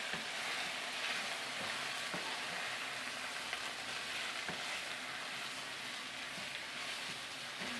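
Meat sautéing in a hot pan for homemade kebab, a faint, steady sizzle and hiss with light scraping ticks from stirring.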